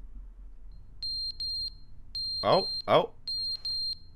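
Smoke detector alarm in the game The Stanley Parable, a piercing high-pitched electronic chirp sounding in quick groups of two or three beeps, with a man exclaiming twice in the middle.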